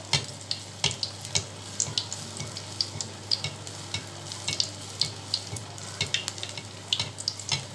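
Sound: idli batter appam frying in oil in a pan

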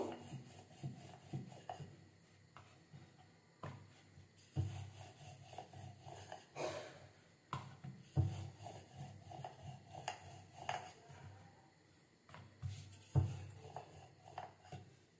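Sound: rolling out paratha dough with a rolling pin

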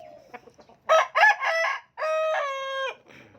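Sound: rooster crowing

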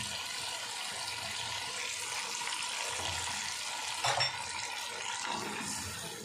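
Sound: mutton trotters added to sizzling masala in pan

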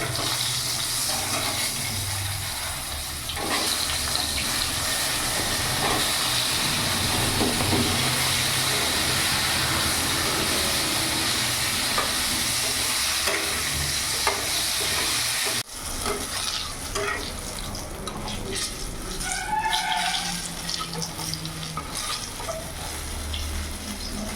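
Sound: eggplant pieces frying in oil

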